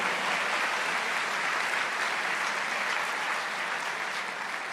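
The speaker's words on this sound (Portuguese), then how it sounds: "Pode aplaudir mais forte." A church congregation applauding loudly at a service, a continuous even wash of many hands clapping that holds steady and tapers slightly at the end.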